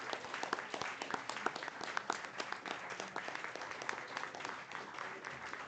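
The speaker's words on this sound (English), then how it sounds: "we should have a huge round of applause for them" Steady, faint applause from a debate finals audience greets the runner-up team, a continuous patter of many hands clapping at a distance with no talk.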